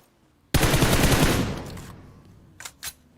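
Machine gun fire in the mobile battle royale game BGMI during a tournament match, a loud sustained burst that tails off, followed by two short distant bursts.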